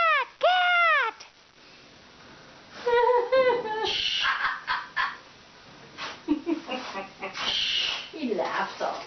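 A Timneh African grey parrot mimics a cat's meow in a few rising-falling calls, close and clear, alternating with bursts of a person's talk.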